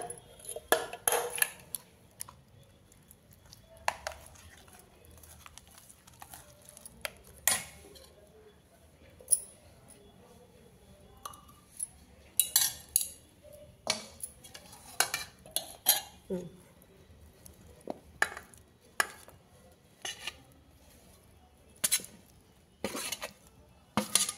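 A metal spoon clinks intermittently against a bowl while tamarind paste is mixed with salt, chili powder and oil, with scattered sharp taps and scrapes over a quiet background.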